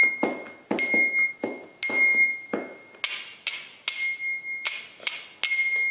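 Small metal kartal hand cymbals struck repeatedly in an uneven rhythm, each bright clang ringing briefly before being damped with the thumb, close and clear with no talking.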